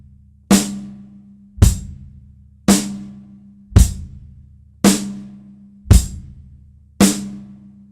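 Drum kit groove playing quarter notes on the hi-hat, seven evenly spaced strikes, each a sharp hit with a short decay and a low drum thump beneath, loud and close with no talking.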